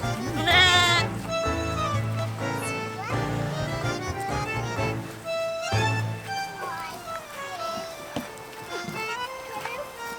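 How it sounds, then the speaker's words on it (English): Many sheep bleat repeatedly, some close and some farther off, with overlapping calls throughout and a person speaking faintly at times. "It is time to move the sheep officially onto the pasture."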